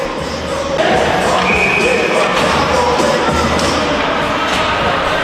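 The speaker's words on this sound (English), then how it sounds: "Nice crowd here." Steady crowd murmur and chatter fills an indoor rink at a high school varsity hockey game between Guilford and North Haven, with occasional thumps and faint voices calling out amid the buzz.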